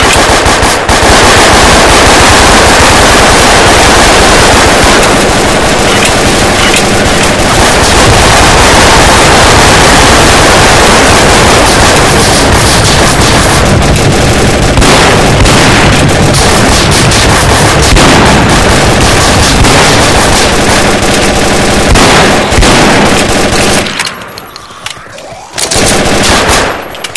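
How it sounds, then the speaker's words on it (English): Full-auto shotgun blasting in Left 4 Dead's Night Terror campaign, a loud, relentless stream of rapid shots packed into a dense barrage that hammers on for many seconds before briefly dropping off near the end. "full auto shotgun."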